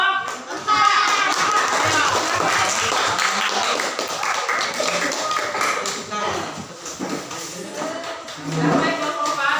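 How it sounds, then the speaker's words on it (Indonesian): Students in a classroom applaud a presenting group, a burst of scattered clapping and taps mixed with chatter and voices, fairly close and busy, tapering and resuming toward the end. "kita tepuk tangan buat kelompok 4"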